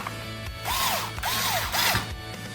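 Screws are driven into the chassis parts of a UD1002P RC truck kit, with three close whirring bursts that rise and fall between brief pauses and quiet mechanical clicks.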